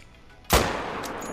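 One sharp, loud Mosin rifle shot is fired at a fallow deer in a New Zealand hunting video game, a sudden crack followed by a rolling echo that fades slowly.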